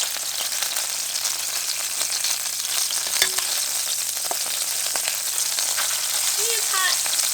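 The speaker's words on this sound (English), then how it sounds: "It's hot. Why you gotta sizzle like that?" Chicken browns in a hot pan for a chicken saltimbocca, giving a loud, steady close-up sizzle and crackle throughout, with a few light utensil clicks.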